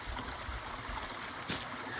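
Creek water running through a wooded creek bottom in the New Hampshire mountains, a steady, soft broadband rush and trickle heard from nearby at low volume, with no voices.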